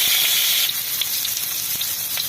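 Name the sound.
potatoes frying in hot oil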